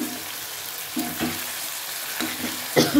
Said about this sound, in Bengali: এই মাছটা হালকা ভেজে এলে, বেশি ভাজবো না